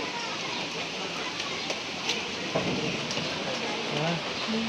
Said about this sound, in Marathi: तर अशा तऱ्हेने पाऊस आलेला आहे